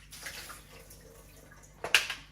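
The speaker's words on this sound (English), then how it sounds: "Just rinse it out with clean water." A Breville espresso machine's catch tray is rinsed under running water: a faint, steady wash of flowing water, then a brief louder splash near the end.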